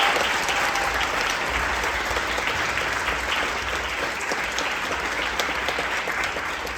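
A large audience at a dance performance claps continuously and evenly, a dense, sustained wash of applause with no break.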